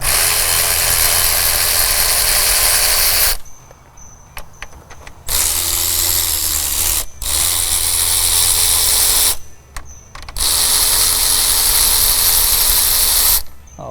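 Three 13 mm metric bolts being loosened and removed from the alternator on a 2003-2007 Ford Powerstroke 6.0L diesel, heard as loud sustained power-tool bursts separated by short quiet gaps, close up.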